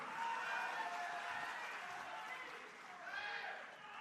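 An audience at a Lokmat Media Group event gives sustained applause, a continuous broad patter of many hands, fairly faint and distant, swelling slightly near the end.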